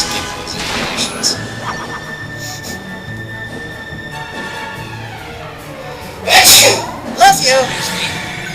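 A sneeze in a Dragon Quest VIII bonus dungeon playthrough, a sharp loud burst late in the clip over steady game music and sound effects.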